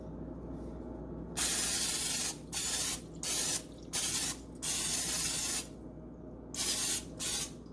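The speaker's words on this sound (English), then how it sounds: "you also need to spray the pan" Cooking spray hisses from an aerosol can onto a cake pan in a series of bursts, one long spray followed by several shorter ones, close up over a low room hum.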